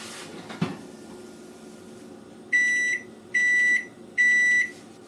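Three evenly spaced electronic beeps from an oven timer, each about half a second long, loud and clear above a quiet kitchen background, preceded by a faint knock.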